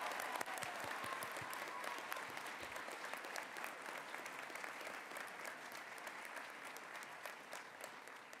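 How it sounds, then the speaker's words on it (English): Steady, sustained applause from a large crowd at a doctoral graduation ceremony, a continuous wash of clapping heard from a distance at moderate level, with no pauses. "Let's give them a round of applause"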